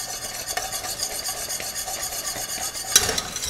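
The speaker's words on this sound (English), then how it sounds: "My strawberries have come to a rolling boil." Strawberry jam at a rolling boil on a stovetop, a busy bubbling and sputtering texture with stirring scrapes, steady and close with one louder burst near the end, no voices.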